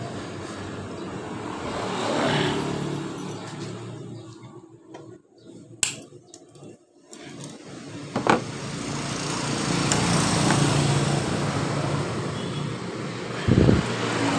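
Yamaha Mio J scooter engine idles and revs after an injector cleaning, a buzzing small-engine drone that dips and surges unevenly, with a sharp knock near the middle and revving swells toward the end.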